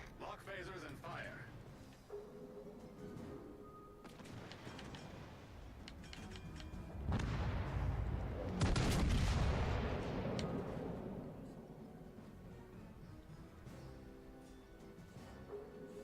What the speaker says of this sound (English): Lock phasers and fire.